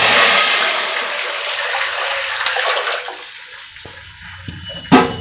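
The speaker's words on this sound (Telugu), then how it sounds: "మనం ఇందులో నీళ్లు పోసుకుందామండి" Water pours steadily into a cooking pan with a rushing splash that thins and fades, followed by a couple of light metallic clinks.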